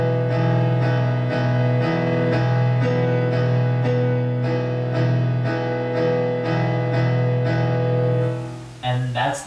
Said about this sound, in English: Before switching it up and pounding on this high B,